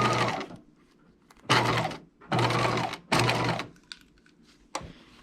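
Short bursts of a sewing machine stitching dress lining, three or four quick whirring runs separated by brief pauses, close and fairly quiet, with small clicks between.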